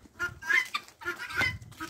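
Guinea fowl and chickens on a farm, giving a few short clucking calls in two bursts, close by and fairly clear, with no talk over them.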